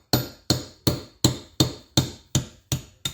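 Socket struck repeatedly to drive a seal washer out of the fuel system on a 1958 Oliver 550 diesel tractor: nine sharp, evenly spaced metallic taps, close and clear, with no talking.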